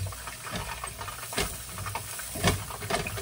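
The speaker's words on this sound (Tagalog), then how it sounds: "ginigisa na po natin yung ating carrots" Cubed carrots sauté in butter in a pan, a continuous close hiss and sizzle with occasional louder crackling pops, and no one speaking over it.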